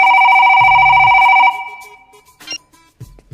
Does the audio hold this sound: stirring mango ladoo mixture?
no